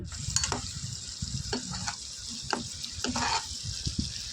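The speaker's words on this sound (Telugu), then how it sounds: "వేసుకొని కొంచెం బాగా ఇది కూడా పచ్చివాసన పోయేంత వరకు కలుపుకొని" Tomato paste being stirred and fried in oil in a pan, a bright hissing sizzle broken by several distinct spatula scrapes and clinks against the metal, close up with no talking.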